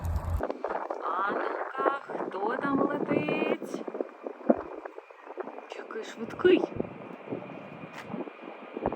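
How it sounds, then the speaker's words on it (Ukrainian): Jet airliners taking off near Munich airport and turning over a nearby village, a distant low roar sustained under close conversation in a breezy outdoor spot. "І літаки вони взлітають кожні 90 секунд."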